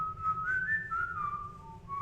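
A person whistling a wandering tune of sustained, sliding notes, clear and fairly close over a quiet low background rumble, with no talking.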